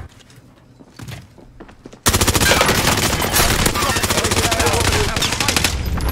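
Loud, sustained automatic gunfire in the video game Warzone: rapid, closely spaced shots run continuously for about four seconds after a quieter opening with faint background sounds.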